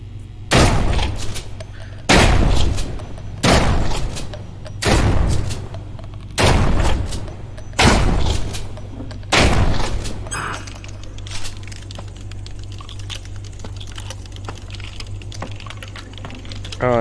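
Shotgun blasts in the VR video game Propagation VR: seven loud, evenly spaced booming shots about every one and a half seconds, then a low steady game ambience with faint sounds.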